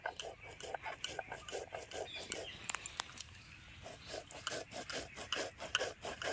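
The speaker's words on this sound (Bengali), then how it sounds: "ভেজানো আতপ চালগুলো বেটে দিচ্ছি" Soaked sun-dried rice is ground by hand on a stone for a besan fritter batter, giving a close, rhythmic rasping scrape that repeats steadily with brief uneven strokes.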